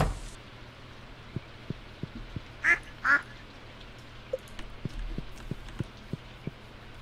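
Two distinct duck quacks from the video game Stardew Valley sound close together over a soft, rain-like ambient patter with faint regular ticking.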